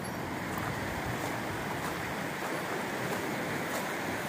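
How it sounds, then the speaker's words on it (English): River water rushing along near the Nantahala Outdoor Center on the Appalachian Trail, a dense, steady roar of running water close by that holds unbroken from start to finish, with no voices. "The water sure is running."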